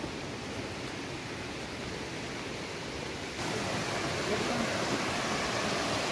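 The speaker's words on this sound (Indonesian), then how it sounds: "Sungai air panas." Hot spring river on the Mount Pangrango trail, its flowing water a dense, continuous broadband rush that grows slightly louder partway through, heard steadily with no distinct voices.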